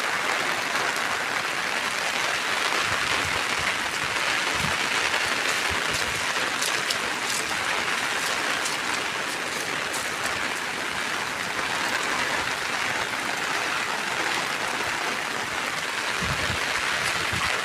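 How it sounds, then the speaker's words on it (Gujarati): Heavy, steady rain pours down in a continuous broadband roar during a downpour in Mandvi, with a few brief low thumps and no talk. "સવારના 8 વાગ્યાનો 8:30 9 વાગ્યાનો વરસાદ એક જ ધારો ચાલુ જ છે"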